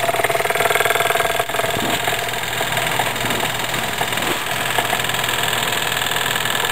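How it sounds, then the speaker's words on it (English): A small engine held at full operating speed while driving a stepper motor used as a generator, giving a steady, loud mechanical drone with a knocking rumble throughout, no talk. "let's increase the engine to its full operating speed"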